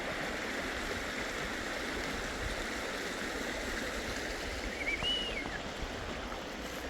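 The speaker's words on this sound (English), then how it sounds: "I just want to show you the river" A river flows steadily along a closed road near huts, a broad even rush of water heard up close with no talk over it.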